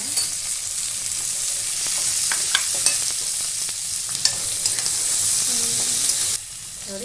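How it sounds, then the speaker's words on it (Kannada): Capsicum, paneer and peas fry in a pan with a steady close sizzle, broken by scraping stirs and clacks of a spoon against the pan, before the sizzle suddenly drops near the end. "ಇದಕ್ಕೆ ಇವಾಗ ಕ್ಯಾಪ್ಸಿಕಮ್ಮು, ಪನ್ನೀರು, ಬಟಾಣಿ ಫ್ರೈ ಮಾಡ್ಕೊಳ್ಳೋಣ."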